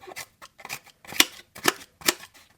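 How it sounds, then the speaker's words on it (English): Roxon KS2E multitool scissors cut cardboard in a series of about five crisp snipping crunches, close and distinct, with quiet pauses between strokes. "I'm definitely gonna cut some cardboard as well."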